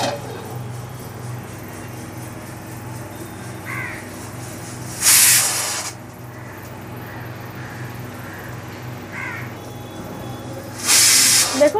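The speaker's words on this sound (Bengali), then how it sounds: "দেখুন প্রেসারে আমার এটা 4 নম্বর সিটি চলে এসেছে" A pressure cooker cooking Bengali-style mutton curry lets out two loud, sharp whistling hisses, each lasting about a second, over a steady low kitchen hum; close by and without talk.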